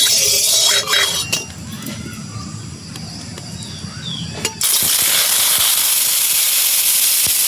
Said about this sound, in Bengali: এবার ডিম ভাজার জন্য কড়াইতে তেল দিয়ে দেবো।